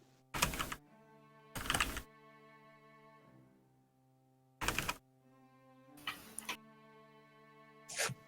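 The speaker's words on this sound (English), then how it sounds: "Oh, dice." Dice rolled during a tabletop role-playing game session, heard as several short, loud clattering bursts spaced a second or two apart over a steady musical background.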